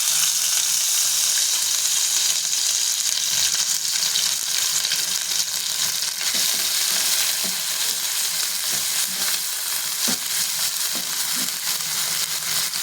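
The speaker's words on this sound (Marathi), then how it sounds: "चार मिरच्या घेतलेल्या आहेत जिरं आणि लसूण असं मी ते बारीक खलबत्यामध्ये करून ते मी तेलामध्ये टाकून परतून घेते" Crushed green chillies, cumin and garlic fry in a pot of hot oil, giving a loud, continuous close-up sizzle with occasional stirring scrapes throughout.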